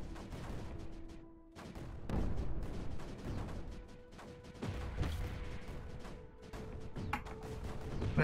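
Cannons firing artillery in the video game Creeper World 4, a dense stream of repeated booms and gunfire-like bursts layered over a steady game hum, fairly loud and continuous.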